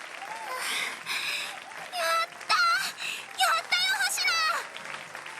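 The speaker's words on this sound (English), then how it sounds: "But the cheers and applause soon sink in" Video game crowd: cheering voices and applause rise in bursts, with excited shouts and whoops breaking through the clapping.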